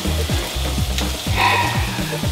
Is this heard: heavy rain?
no